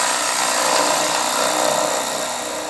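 Woodturning gouge cutting a wooden bowl spinning on a lathe, a steady loud hissing scrape that stays constant throughout, with no voices.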